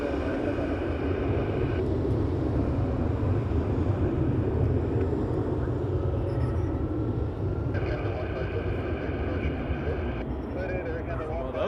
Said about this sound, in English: Transat 122 to Gatwick, about to line up.